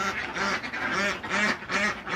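A flock of egg-laying ducks in a pen quacks repeatedly and loudly up close, overlapping calls in a steady rhythmic chorus.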